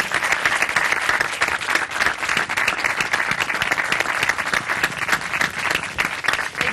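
Studio audience applause fills the room at a steady, dense roar of many hands clapping, loud and continuous throughout with no other sound on top.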